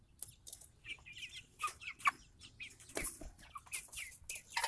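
Red Ranger broiler chickens at 48 days old cluck and chirp close by, several birds calling in an irregular, overlapping chatter with no voices.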